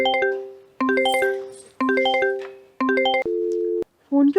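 After a phone call is cut off, a repeating electronic disconnect tone sounds: four chiming beeps in a regular pattern, followed by a steady held tone and a final short beep.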